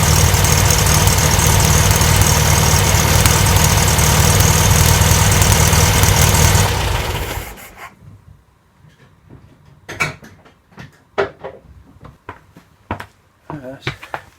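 Old engine idling with the choke on and running rich: a loud, steady, dense rumble for about seven seconds, then it cuts off, leaving quiet room sound with scattered knocks and clatter.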